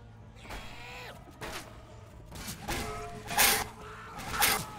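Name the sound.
door creaking open in Left 4 Dead video game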